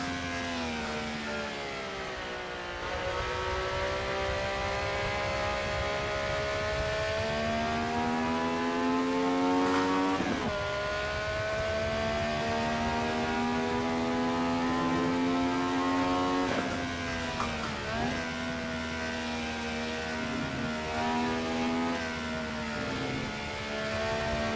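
A Honda race car engine screams at up to 11,000 RPM in Assetto Corsa at VIR, a continuous high-pitched wail rising through the gears with quick dips at each shift, loud and close with no talking.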